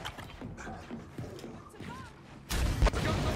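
The Boomshot grenade launcher in Gears of War 4 fires with a single heavy, booming blast that abruptly cuts through quieter game sounds and a talking voice, leaving a loud rumbling tail.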